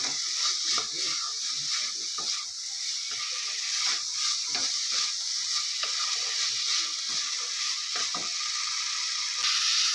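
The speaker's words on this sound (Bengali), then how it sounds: "দিয়ে ভালো করে এবার আমি কষাবো" Spices with cumin powder and tomato are sautéed for chicken ghugni, a dense steady sizzle under a rapid run of spatula scrapes and clicks against the pan, with no speech.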